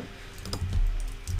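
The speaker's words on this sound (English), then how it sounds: "typing Lottie" Several quick key presses on a computer keyboard, close and fairly soft, in an irregular burst of clicks with no talking.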